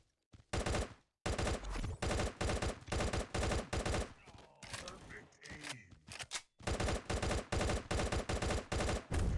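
Rapid bursts of automatic gunfire from the video game Gods of Boom, loud and repeated in tight volleys with a short break of mixed scuffling and effects midway, then more sustained shooting.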